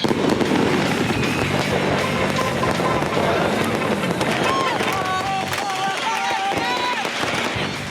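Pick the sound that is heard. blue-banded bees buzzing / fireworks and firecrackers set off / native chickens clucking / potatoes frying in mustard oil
fireworks and firecrackers set off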